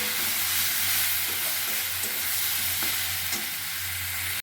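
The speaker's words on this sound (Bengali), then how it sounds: "মুগ ডালটা ভাজা প্রায় হয়ে গেছে সব সবজি দিয়ে।" Mung dal frying with mixed vegetables in a pan, a constant close sizzle with faint stirring, ending in a sharp knock of the utensil.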